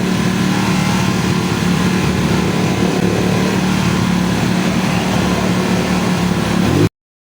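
A motorcycle engine, a KLX 150 being repaired, runs steadily nearby with a constant loud drone and cuts off abruptly near the end.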